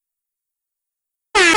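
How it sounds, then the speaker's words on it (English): After a long silence, a single loud, blaring air horn blast suddenly cuts in and holds to the end, with no talking. "I had to give you the air horns"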